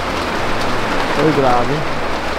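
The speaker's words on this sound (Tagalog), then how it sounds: "Sobrang ulan guys." Heavy rain pours steadily in Nabua as a dense, continuous hiss, while a person speaks briefly over it partway through.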